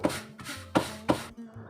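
Bhakri flatbread dough being patted by hand, several soft slapping thuds in a loose, uneven rhythm, close and fairly quiet with no talking.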